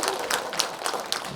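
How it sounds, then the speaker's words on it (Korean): Brief applause from a crowd, a dense patter of clapping hands heard up close, at a poetry and literature festival in Korea. "박수 한번 더 해주시기 바랍니다."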